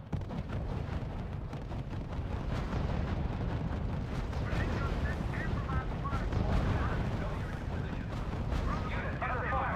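Dense, continuous gunfire and artillery blasts rumble around a unit in the strategy game R.U.S.E., loud battle noise sustained the whole time with faint radio-style voices mixed beneath.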